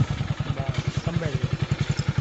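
Motorbike engine chugging with a fast, even pulsing beat on an uphill path, steady and fairly close, with people talking faintly over it.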